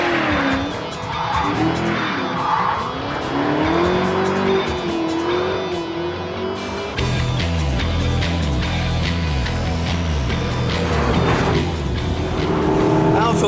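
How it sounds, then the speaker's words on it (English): A sports car engine driving on the smooth Silverstone racing circuit, a loud, rising and falling engine drone with shifting pitch as it accelerates and changes gear, heard continuously from close by. "On the smooth Silverstone racing circuit, I can finally appreciate the sounds of that engine behind me."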